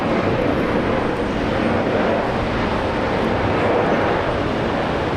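A Singapore Airlines airliner lands on runway 19 left at Brisbane Airport, its engines a loud, steady broadband roar throughout, heard from nearby.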